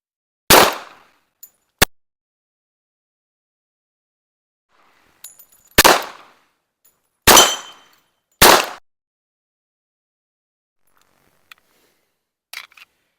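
A 1911 pistol firing five separate sharp shots at uneven intervals, with near-silent gaps between them and faint small clicks and handling sounds.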